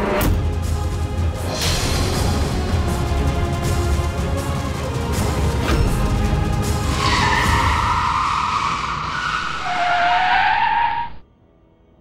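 A car skids for a long stretch with loud squealing tires and roaring road noise, the screech rising in pitch near the end before cutting off abruptly into silence as it comes to a stop.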